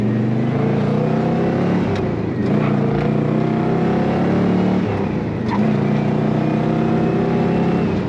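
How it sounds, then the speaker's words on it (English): A 1967 Pontiac GTO Convertible's exhaust roars continuously as the engine accelerates on the highway, the pitch rising and shifting through gear changes, loud and close from inside the vehicle. "a very nice sound to that exhaust"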